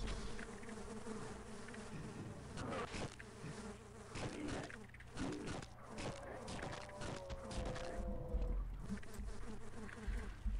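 Bees buzz in the Half-Life video game, a dense droning swarm with scattered sharp impacts and shifting whines, steady and fairly loud throughout, with brief game noises mixed in.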